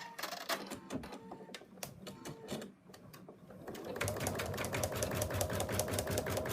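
An embroidery machine runs a fast, steady basting stitch around an outline on water-soluble stabilizer, its needle clattering in a close, even rhythm that grows louder and denser partway through.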